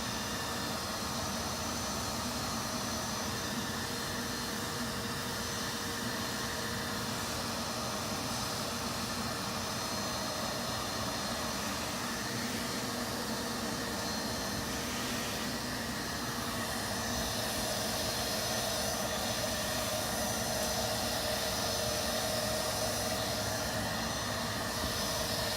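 A vacuum hose hums steadily during a bee removal, pulling honeybees from an opened hive as foragers return, a loud continuous whirring drone throughout with no speech.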